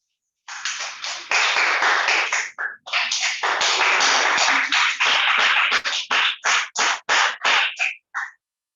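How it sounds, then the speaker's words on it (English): Ceremony audience applause at an award and unveiling event: a steady, loud wash of clapping that thins into separate spaced claps before stopping. "Please applaud yourself."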